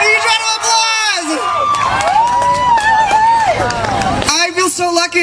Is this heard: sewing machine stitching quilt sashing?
no